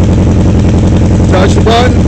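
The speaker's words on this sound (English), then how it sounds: "press the button, ignition goes on, boom. Bike goes on." A Suzuki Hayabusa motorcycle engine fires up with a loud, close, rumbling idle that pulses steadily throughout, with a brief rising whine near the end.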